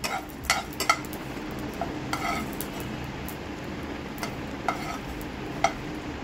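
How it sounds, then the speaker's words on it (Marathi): Whole spices dry-roasting in a kadhai over a medium flame for dum chicken, a steady soft sizzle and rustle under repeated scraping and clinking of a spoon against the pan, close and continuous without talk. "तर छान असं भाजून घ्या, जोपर्यंत कढईत हलका धुवा येईल तोपर्यंत भाजून घ्या।"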